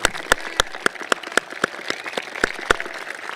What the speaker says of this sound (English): Let's give all these people a round of applause.